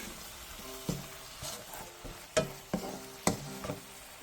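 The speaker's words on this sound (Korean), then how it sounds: "정도 지난 뒤 어묵을 한번 가볍게 뒤적여주세요" Fish cake is stir-fried in a pan over medium-low heat, with light sizzling and several distinct scrapes and taps of a utensil at irregular intervals, close up and with no voices.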